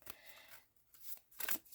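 Oracle cards being shuffled by hand, giving soft, faint riffling bursts at the start and again near the end, with a quiet pause between them.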